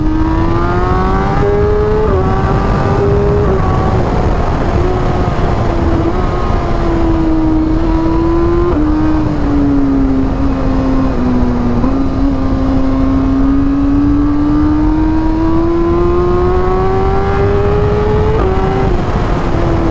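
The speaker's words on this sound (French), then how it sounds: "Les coups de shifter, c'est une dinguerie." A BMW M1000R superbike engine revs hard and loud, its tone climbing and dipping through a string of quick gear changes, each quickshifter cut audible as a brief break before the pitch rises again, continuous and close throughout.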